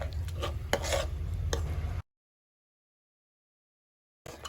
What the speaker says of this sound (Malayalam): ഒരു സ്പൂൺ റവ വേണ്ടി നല്ലോണം മിക്സ് ചെയ്ത് കൊടുക്കാം